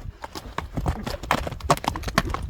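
A bay horse runs close by, its hooves clip-clopping in a quick, uneven rhythm of sharp, loud strikes, with no other sounds on top.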